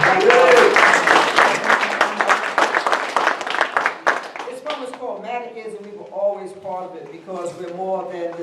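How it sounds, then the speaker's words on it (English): Audience applause at a celebration of African American poets, a burst of crowd clapping for about four seconds that gives way to a speaker talking alone. "Give yourself a big round of applause for supporting me."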